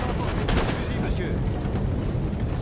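Crackling volleys of rifle fire in a noisy Napoleonic-era battle scene in a Total War video game, with voices shouting underneath.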